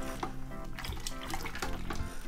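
Water pouring steadily into a fermenter to top up a fruit and pepper homebrew must, a continuous close splashing wash with dense broadband texture and no talk.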